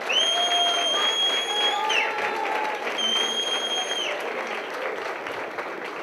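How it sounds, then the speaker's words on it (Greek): Warm applause from a Greek dance-event audience, steady clapping throughout with crowd noise and a few sustained tones over it, moderately loud and gradually easing. "Θα ήθελα από την πλευρά σας ένα ζεστό χειροκρότημα"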